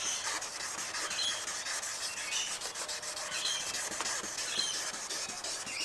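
Hand sanding of a discolored, yellowed car headlight lens during a Rustoleum headlight restoration, producing a steady close-up scratchy rubbing that repeats in back-and-forth strokes with no talk.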